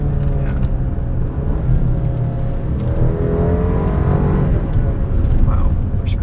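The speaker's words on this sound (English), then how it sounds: "This 2-liter turbo needs some revs, but once it gets going, it gets going." A 2025 Alfa Romeo Stelvio Tributo Italiano AWD with a 2-liter turbo engine pulls hard from inside the cabin, its steady drone climbing in pitch as the revs rise under a constant road roar.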